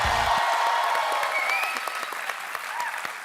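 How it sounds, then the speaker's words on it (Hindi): Studio audience applause at a comedy talk show welcoming guests, a dense wash of clapping that starts loud and gradually thins, with a brief tonal sound and a few faint voices mixed in. "जोरदार तालियां हो जाए एक बार।"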